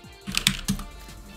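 A handful of crisp keystrokes on a computer keyboard while entering an xrandr refresh-rate command in a Linux terminal, three or four close, sharp clicks in quick succession, then quiet.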